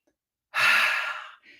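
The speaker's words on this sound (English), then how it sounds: "take a breath." One person draws a single deep breath in through the mouth, a sharp, close inhale lasting under a second, followed by a short, soft release of air.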